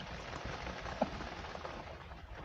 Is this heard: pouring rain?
yes